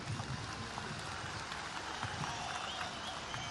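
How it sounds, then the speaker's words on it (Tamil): Audience applause at a large outdoor political rally, a steady dense wash of clapping from a big crowd that continues without pause throughout. "இவங்களுக்கு ஒரு இந்த கைத்தட்டல் கொடுங்க"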